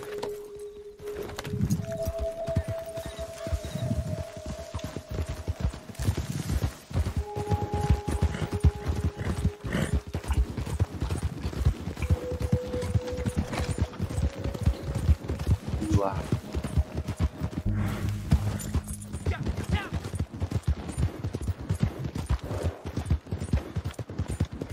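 Horse hooves clip-clop steadily in a Wild West video game, a continuous rhythmic trotting under frequent talking, with occasional whinnies and brief game tones.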